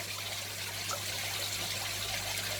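A turkey baster releases a gentle, steady trickle of water into a small shrimp-tank container, close and continuous, over a faint constant hum, with no voices.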